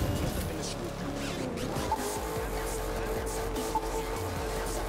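A car labouring uphill over hilly terrain in The Crew 2, with a continuous near engine drone and rumble and a few sharp knocks, while someone talks over it.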